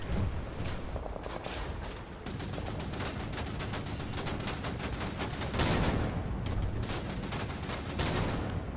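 Sustained, dense bursts of rapid gunfire with sharp repeated shots, loud and continuous throughout, in a battle in the video game Wolfenstein: The New Order.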